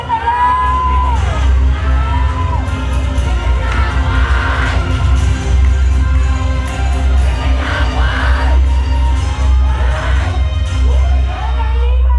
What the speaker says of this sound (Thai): ขอเสียงเชียร์